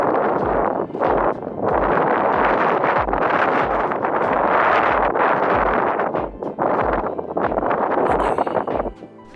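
Strong wind blows outdoors across an open hunting area, buffeting the microphone in loud, continuous gusts that rise and fall with brief lulls, with no speech.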